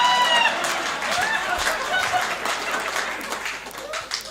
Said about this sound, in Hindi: तालियां रोक के बताना।